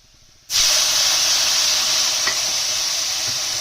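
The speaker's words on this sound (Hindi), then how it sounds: "तो अब हम इसमें टमाटर शामिल करेंगे" Tomatoes hit a hot pan of spice mixture for Sindhi Seyal Maani, setting off a sudden loud sizzle that holds as a steady, close hiss for several seconds.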